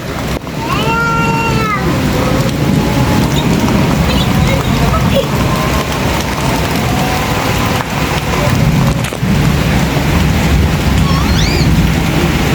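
Heavy rain pouring down outdoors on a wet day, a dense, loud, constant wash of noise, with faint voices and brief calls in the background.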